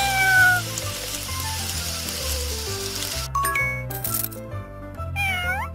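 Meows from a cat in a children's superhero rescue game ring out over bright, steady game music, with sparkly chime effects and rising whoosh tones toward the end.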